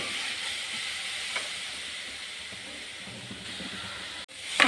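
A jackfruit stir-fry sizzles in a pan with a steady, even hiss that stays fairly constant throughout, ending in a brief louder scrape at the close.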